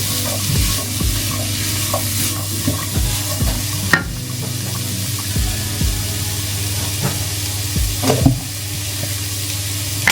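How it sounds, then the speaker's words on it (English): A spoon repeatedly scrapes and thumps through a vegan dish simmering in a pot, with a low bubbling sizzle underneath and a few louder knocks against the pot's sides. "Stir that again."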